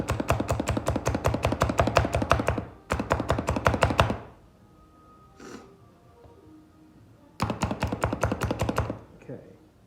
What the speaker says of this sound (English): I gotta use the good old slap chop thing